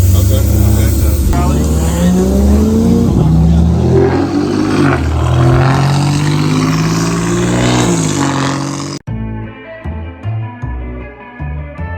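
A Lamborghini Huracan RS engine revs and rises in pitch while being pushed through corners, loud and close under a person talking, before the sound gives way to music.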